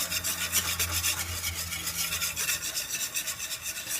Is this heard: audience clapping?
no